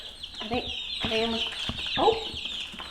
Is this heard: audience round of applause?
no